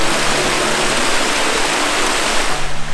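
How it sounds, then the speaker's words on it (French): Small forest waterfalls make a dense, steady rush of falling water, loud and close, with no other sounds. "alors c'est des toutes petites cascades, hein"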